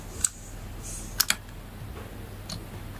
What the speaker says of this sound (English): The keyboard sounds so good though.